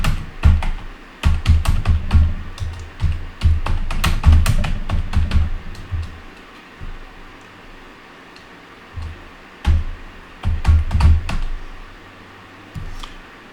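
Quick bursts of keystrokes on a computer keyboard as a search is typed, clustered clicks with short pauses between, close and clear with no talking.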